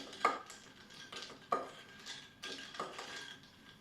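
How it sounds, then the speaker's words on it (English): A spoon stirs a carajillo coffee drink in a glass, giving a few sharp clinks against the side in an uneven rhythm, close and fairly quiet. "we're gonna mix it to incorporate all of the flavors"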